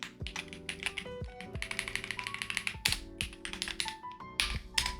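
A computer keyboard clatters as code is typed, with rapid close key taps in a dense, uneven rhythm and no voice over it.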